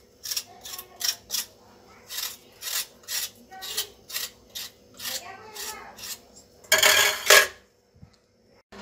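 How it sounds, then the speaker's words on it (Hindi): Potatoes are peeled by hand with short, regular scraping strokes at close range, followed by a louder burst of rubbing and clatter near the end. "अब मैं छीलती हूँ इनको, छीलने के बाद धो के इनको काटूंगी।"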